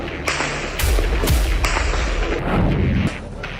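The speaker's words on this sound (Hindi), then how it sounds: "वेस्ट बैंक के नूर शम्स कैंप में क्या चल रहा है, गोलियों की आवाज से अंदाजा हो रहा है।" Gunfire at Nur Shams camp in the West Bank during protests, with several loud sharp cracks and thuds spread over a few seconds against a constant rumbling background.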